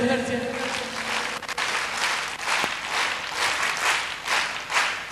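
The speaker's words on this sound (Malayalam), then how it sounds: "നേരത്തെ കൊല്ലം ക്ലാപ്പ് ഓർമ്മണ്ട? ഒന്നടിച്ചേ." Group of teacher trainees clapping together in a practised clap pattern, loud continuous applause-like rhythm from many hands with a voice briefly audible at the start.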